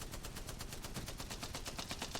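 A Spitfire light machine gun firing in Apex Legends: a rapid, steady stream of shots in one continuous burst, fairly quiet and without talk.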